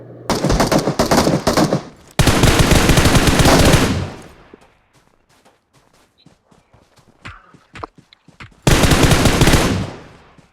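Bursts of automatic gunfire from a shooter video game, loud and dense, in two long volleys at the start and another near the end, with sparse faint clicks and footsteps between.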